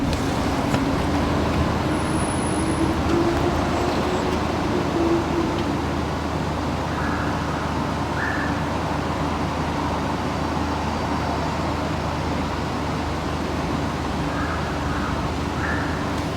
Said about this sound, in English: I drive a diesel, so they're normally a little bit louder,